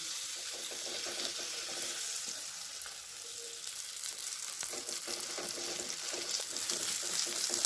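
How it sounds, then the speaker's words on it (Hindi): Onion batter poured into a hot, lightly oiled kadhai gives a steady, close sizzle of frying that keeps up throughout with no talking. "कढ़ाई हल्की सी गर्म हो चुकी है। तो अब हम इसमें ये घोल डाल देंगे।"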